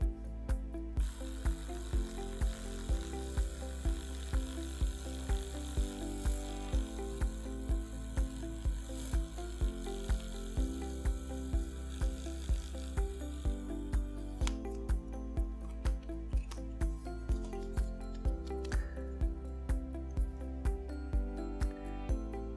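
Broxo OraBrush electric toothbrush running continuously with a steady mechanical whir and a regular clicking pulse about twice a second, close and even throughout.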